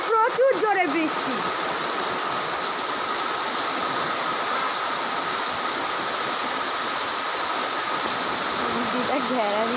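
Torrential rain pounding on a covered spot near a river, a loud, unbroken hiss of water; a voice speaks briefly at the start and again faintly at the end over the downpour.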